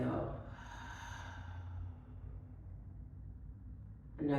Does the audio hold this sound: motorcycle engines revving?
no